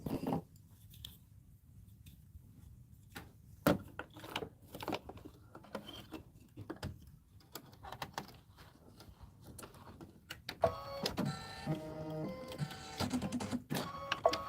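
A home embroidery machine stitches leaf shapes in aloe-colored thread for a Thanksgiving tabletop display, a steady close rubbing and rasping patter with bursts of rapid needle chatter toward the end.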